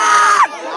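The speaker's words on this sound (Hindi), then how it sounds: "क्या प्रभु नारायण के साथ में ये सारे जो भीड़ इकट्ठी है, दिखाइएगा भीड़ को, सारे इकट्ठे साथ में है क्या?" A crowd gathered at a protest over a railway station's construction shouts together in one loud, sustained burst that cuts off sharply, leaving a fainter murmur.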